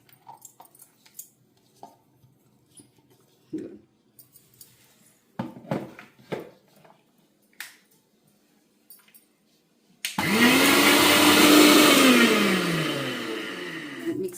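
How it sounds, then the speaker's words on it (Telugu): A mixer grinder switches on after scattered clinks and taps, running loud and close for about four seconds as homemade kumkum is ground, its motor whine rising then slowly sagging. "డైరెక్ట్గా ఇది మిక్సీకి వేయడమే"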